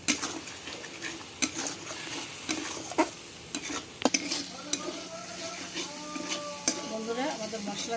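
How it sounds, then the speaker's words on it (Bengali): Masala of coriander powder and crushed kasuri methi frying in a pan for an eggplant curry: a steady soft sizzle under repeated scraping stirs and occasional sharp clinks of a spoon against the pan, fairly close. "ভালো করে মশলাটা ফ্রাই করে নেব।"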